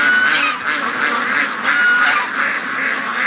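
Geese honking near a lake, several overlapping nasal calls repeating in loud bursts, close by with no talking.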